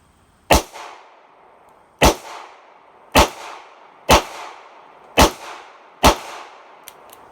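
Six sharp gunshots from a Ruger LCR revolver in .22 WMR at an outdoor range, evenly spaced roughly a second apart, each a loud crack with a short fading tail.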